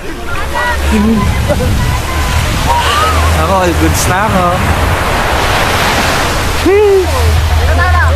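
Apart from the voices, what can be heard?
strong waves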